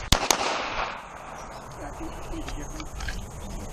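Two sharp gunshots crack in quick succession during shooting training, loud and close, followed by a faint ringing, reverberant tail over quiet background noise.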